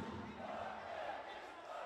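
A boxing crowd at Humo Arena during the IBA World Boxing Championships bout, a steady, moderately distant roar of support under a commentator's voice.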